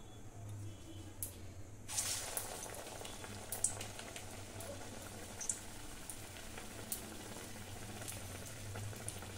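Potato and egg chops frying in a kadai of hot oil, a steady low bubbling sizzle with scattered faint crackles and pops throughout.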